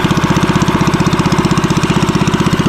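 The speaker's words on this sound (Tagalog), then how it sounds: "ito na po yung makina ni Alessandro" A small engine fitted with a motorcycle carburetor idles nearby with a loud, fast, even chugging pulse that holds steady throughout.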